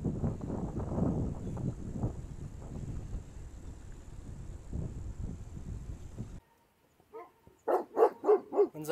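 Dogs bark in a quick burst of several sharp barks near the end, after a stretch of wind-buffeted outdoor rumble and a brief quiet gap, on a bicycle tour in Greece.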